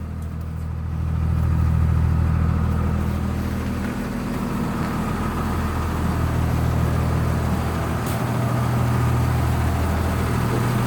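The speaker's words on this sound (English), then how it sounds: "But the old bus fired up, guys." A 1996 Blue Bird bus engine runs steadily after starting, a deep, loud idling rumble that holds even for about eleven seconds with no talk.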